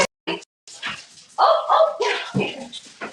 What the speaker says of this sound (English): We've got a lot of dogs in this household